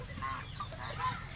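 Chickens cluck softly in their housing pen, a few short calls rising and falling in a quiet, continuous murmur.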